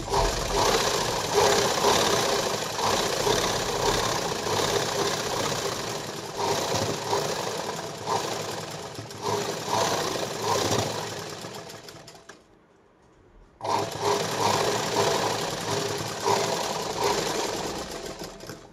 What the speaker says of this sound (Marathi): आता त्याला पुन्हा एकदा आपल्याला दाब शिलाई द्यायची